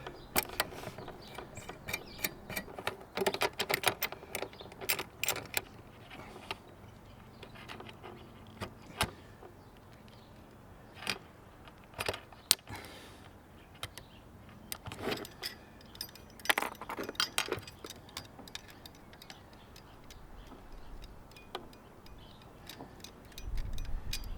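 Sailboat rigging turnbuckles being slackened off one by one aboard a boat on the Tamar river, heard as close metallic clinks, jangles and scraping taps scattered irregularly through the whole stretch, with quieter mechanical fiddling in between.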